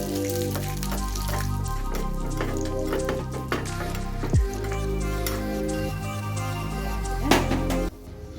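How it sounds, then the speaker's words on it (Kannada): Cashews fry in ghee in a pan, giving a steady crackling sizzle with occasional stirring clatter and a brief metallic scrape near the end, with no talking. "ಹಾಗೆ ಇಲ್ಲಿ ಗೋಡಂಬಿನ ಫ್ರೈ ಮಾಡೋದಕ್ಕೆ ಇಟ್ಕೊಳ್ತಾ ಇದ್ದೀನಿ"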